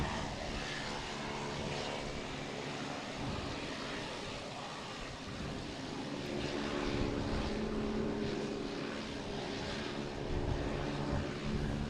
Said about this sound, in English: There's the American Airlines coming in from